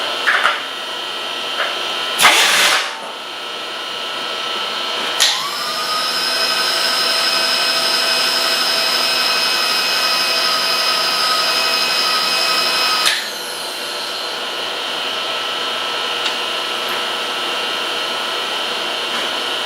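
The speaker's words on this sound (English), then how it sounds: "We're going to pinch it in the vise at a 45-degree angle, and we're going to put us a hole in there now." A drill bores a hole in metal clamped in a vise at a 45-degree angle, with a few knocks of setup, then a steady close motor whine with grinding cutting noise for several seconds before it drops to a fainter hum.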